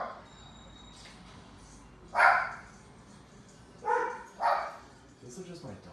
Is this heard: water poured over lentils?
no